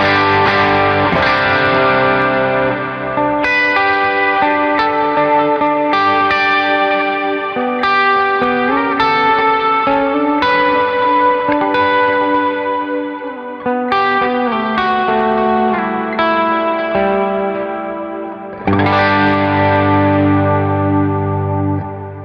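An electric guitar runs through an RC Booster pedal with delay and reverb, playing loud sustained chords and notes that ring out with echoing tails, no talk.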